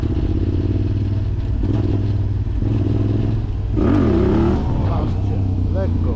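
A Yamaha MT-07 motorcycle engine runs loud and close under light throttle during wheelie practice, a steady rumble that swells with a short rev in the middle, while someone talks over it.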